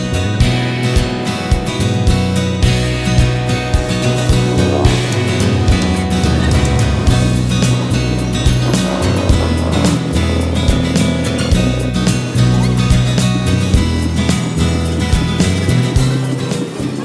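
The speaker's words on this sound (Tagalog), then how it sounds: "Grabe, napakaraming kotse." Heavy car traffic on a busy, polluted road, a loud, dense and continuous roar of engines and passing vehicles with no gaps.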